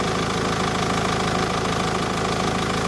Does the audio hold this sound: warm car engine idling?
yes